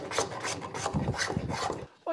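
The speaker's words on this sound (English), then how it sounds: "So having worked everything down with the spoke shave both sides and the saw rasp, you can see we have a lovely round over edges each side." A saw rasp rounding over the edges of a wooden seat for a hand-made three-legged stool, a quick series of about eight rhythmic, coarse rasping strokes, close and fairly loud.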